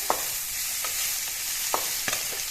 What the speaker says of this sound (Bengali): পিঁয়াজখিনি মই ভাজি ল'ম প্ৰথমতে